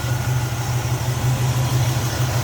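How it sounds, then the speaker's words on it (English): A 1967 Chevrolet Camaro's 327 V8 with a 4-barrel carburetor and headers idling steadily with a deep, even burble, loud and close, with no voices. "There it is, 327 V8, 4-barrel, headers"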